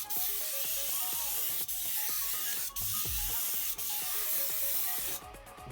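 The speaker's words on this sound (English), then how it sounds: "I think I'm spraying at probably at about 50 psi" Candy Blue paint sprayed at about 50 psi onto an RC car body in a light first coat, a steady close airbrush hiss running nearly unbroken, with short pauses and a sharper sputter near the end, with faint music underneath.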